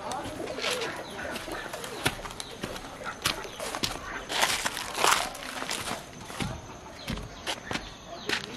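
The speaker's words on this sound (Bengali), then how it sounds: "আমার কবুতর ওরা খাওয়ার লেগে একদম পুরো পাগল হয়ে গেছে ভাই" Pigeons crowding in at feeding time, their soft coos mixed with repeated sharp clicks of pecking, scuffling feet and wing flaps, close and busy throughout.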